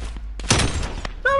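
Gunfire rings out in a Search and Destroy video game match, a brief cluster of sharp shots with a dense burst in the middle, close and punchy, followed by a short electronic tone.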